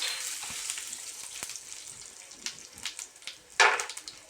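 Cumin and whole spices sizzle and crackle in hot oil, a close, steady hiss with scattered pops and a sharper burst of spitting near the end.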